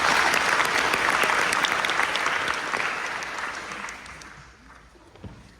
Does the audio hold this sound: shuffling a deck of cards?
no